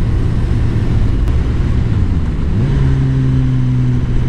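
A new Suzuki Katana motorcycle with a GSX-R1000 engine idles with a steady low hum, then its pitch steps up as it revs, loud and close.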